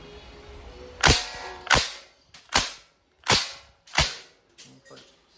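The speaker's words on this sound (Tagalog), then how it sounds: "Sa gitna ang semi-auto firing." A KWC airgun submachine gun with blowback fires semi-auto: about six sharp, loud snapping shots at irregular intervals, each with a quick metallic action clack, close by and without talk.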